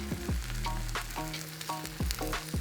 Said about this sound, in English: Then cracking 2 eggs into the spinach with some salt and pepper on top.